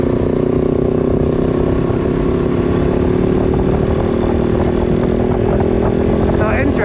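A KOVE 450 Rally motorcycle on the ride home, its engine droning steadily and close with wind rush throughout, pitch holding fairly even.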